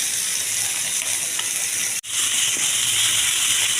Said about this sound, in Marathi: परत एकदा मी दुसऱ्या साईडने पलटी केलेल्या आहेत आणि बघू शकता मस्त अशा प्रकारे फ्राय झाले पाहिजे